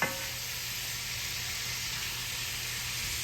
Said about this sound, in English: Now, I'm going to stir that around just a little.